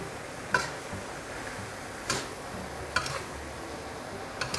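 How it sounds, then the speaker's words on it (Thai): Pork larb khua, northern Thai style, is stir-fried in a pan with sliced Vietnamese coriander, spring onion and coriander, a soft continuous sizzle broken by a few spaced scrapes of the utensil against the pan. "ตัวผักแพ้วซอยกับต้นหอมผักชีนะครับ แล้วก็ผัดให้เข้ากันนะครับ"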